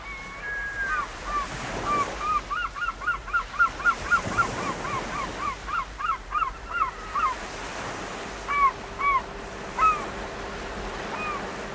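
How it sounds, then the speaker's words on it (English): Repeated seagull cries ring out in short bursts, loud and close, over the steady wash of waves and wind at a harbour as a trawler comes in. "with seagulls wheeling around its catch piled on the deck"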